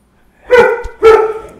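A female pet dog gives two sharp, close barks about half a second apart. They are loud and clear, with quiet before and between them and no talk.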